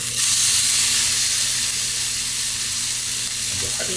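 Beef flat iron steak served with roasted mushrooms sizzles loudly and steadily in a hot pan, a dense continuous frying hiss with no talking over it.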